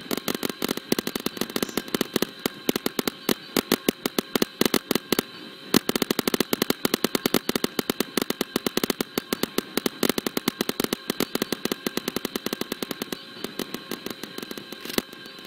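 Paintball guns fire in a Roblox battle, with rapid, loud, continuous popping shots in dense bursts throughout, backed by constant game background noise.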